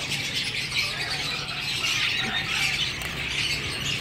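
Pet finches and parrots kept in a breeding setup squawk and chirp continuously at close range, a dense layer of overlapping bird calls and rustling with no voices.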